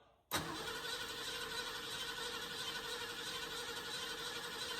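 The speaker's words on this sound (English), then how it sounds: "See if it'll crank." A 1968 Ford Mustang engine fitted with a PerTronix Flame Thrower distributor and Quick Fuel HR450 carburetor cranks and catches abruptly, then holds a loud, steady, close running roar for several seconds with no voices.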